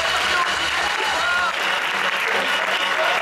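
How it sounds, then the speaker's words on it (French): An improv festival audience in Toulouse applauds four performers, a loud, sustained wave of clapping and crowd noise with a voice talking briefly over the top. "On les applaudit tous les quatre!"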